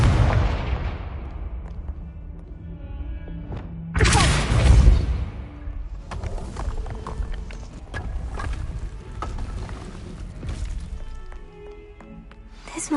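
A Confringo fire spell explodes in the video game Hogwarts Legacy, a sudden loud burst around the middle that decays into crackling, rumbling game ambience with scattered clicks.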